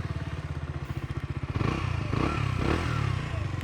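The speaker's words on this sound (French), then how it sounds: "et allumons la moto." A KTM Duke 125 motorcycle engine cranks with a rapid, even pulsing, then catches and settles into a steady, loud idle close by.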